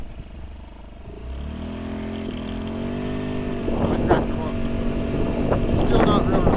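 A freshly tuned scooter engine idles steadily, then rises to a louder, rough, uneven rev when the throttle opens, close by and running without a break.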